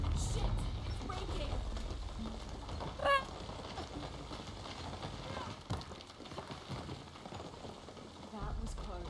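A guard's parrot in the video game Shadow of the Tomb Raider lets out a brief, high squeaky call partway through, set against a steady bed of game ambience and low rumble.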